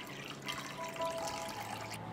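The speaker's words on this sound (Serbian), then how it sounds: "Toplu vodu sipam u činiju." Warm water, about 40 degrees, poured into a bowl to make a wood-ash solution; a steady, close trickling splash runs for about two seconds with no voices.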